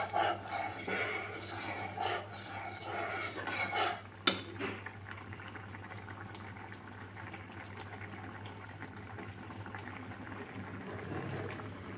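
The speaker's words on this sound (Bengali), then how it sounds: "তাহলে আমার ডাল ফ্রাইয়ের ডাল ফ্রাই হয়ে গেছে, ডাল ফ্রাই ফুটে উঠেছে।" Arhar dal fry simmers in a pot on a gas stove with a steady bubbling, burbling sound. A short clatter comes near the middle, and then it quietly fizzes on under a low hum.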